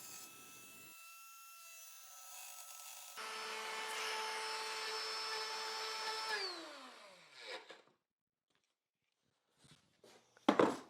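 A power tool routing 3/4 inch plywood in a shallow pass for a backer board: a steady loud whine for several seconds that winds down to silence, followed by a few brief knocks and scrapes.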